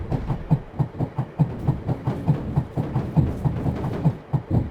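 Rhythmic clickety-clack of a train rolling along rails in Amazing Frog, a steady run of regular wheel thumps at close range with no talk.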